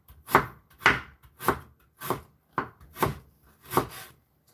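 A knife chops fresh ginger on a cutting board, seven crisp evenly spaced thuds, close and clear with no talk.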